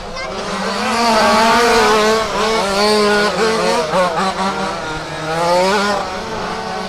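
A pack of rally race cars at Warm Springs Raceway roars off the grid together, several engines revving and shifting in overlapping rising tones, loud and close, with tires briefly squealing.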